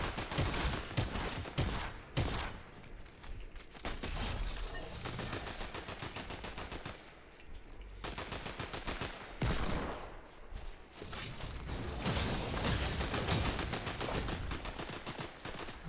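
Rapid game gunfire in the indie space game Space Trader, long loud volleys of dense repeating shots with a few brief lulls before the firing resumes.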